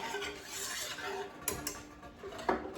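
Garlic butter shrimp scampi seasoning mix whisked into a sauce in a pan, soft swishing scrapes with a few sharp clinks of the whisk against the pan.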